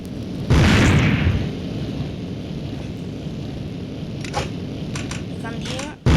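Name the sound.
grenade explosion in a video game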